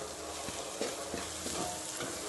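Ground black pepper is stirred into spices roasting in a pan for a vegetable pickle, making a brief burst of steady hiss with a few soft scraping strokes.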